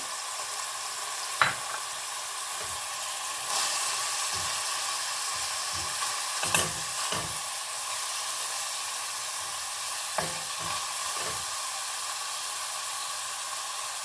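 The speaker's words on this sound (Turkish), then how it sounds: "Soğanımı kavurduktan sonra kıymamı ekliyorum." Ground meat sizzles in a pan with onions fried before it, a steady bright hiss broken by occasional clacks and scrapes of stirring, with no talk.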